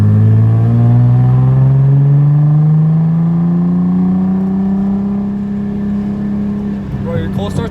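Straight-piped Nissan 300ZX exhaust revving loud and close, its tone climbing steadily in one long sustained pull, then dropping off with a few rattling pops at the end.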